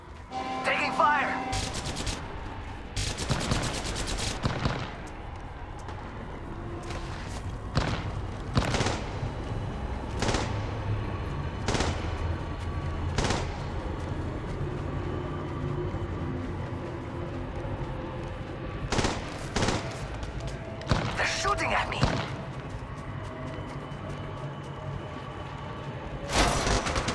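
Weapons fire in the battle game Apex Legends Mobile, with scattered bursts of gunshots near and far, some in quick clusters, under a steady background of game noise and occasional voice callouts.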